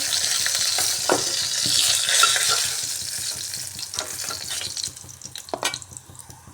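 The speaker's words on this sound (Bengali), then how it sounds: "চাল কুমড়া বাজার তেলের মধ্যে এখন ফোড়নটা দিয়ে দিচ্ছি" Ash gourd fries in oil before cumin, dried chilli and cinnamon go in for tempering, a loud close sizzle and crackle with repeated spatula scrapes that thins toward the end.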